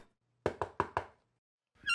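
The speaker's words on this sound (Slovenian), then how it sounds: "Egon je prišel domov peš in se ravno usedel v kosilu, ko so potrkali." Four quick, evenly spaced knocks on a door ring out sharply in a quiet room, followed by a pause and then the start of a voice.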